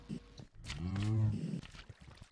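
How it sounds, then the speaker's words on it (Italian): Cow in the Minecraft video game: a single long, low moo near the middle, loud and close, with light clicks of game sounds before and after. "Sento le mucche."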